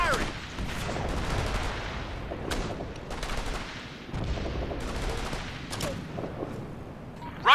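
Bursts of rifle and automatic gunfire crack repeatedly in Operation Flashpoint: Red River, dense overlapping shots with short pauses, fairly close and loud.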